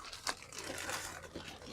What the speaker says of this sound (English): Now you can take them out of the bag